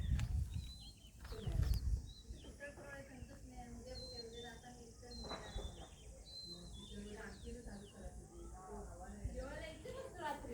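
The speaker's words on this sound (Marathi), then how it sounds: "पक्ष्यांचा आवाज ऐकू शकता तुम्ही" Scattered bird calls and chirps drift through a very quiet village countryside, faint and distant. They repeat irregularly over a soft, still background.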